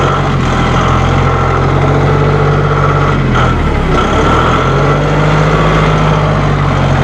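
A tractor's engine idles at low speed, a steady continuous rumble with a constant drone throughout, close and fairly loud with no talking over it.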